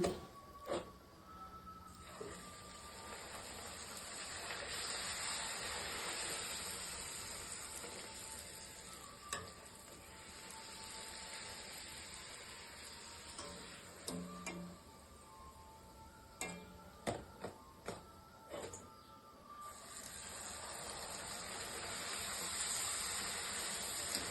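Puris deep-frying in hot oil in a kadai, a steady close sizzle and bubbling hiss throughout with occasional clicks and scrapes of a utensil.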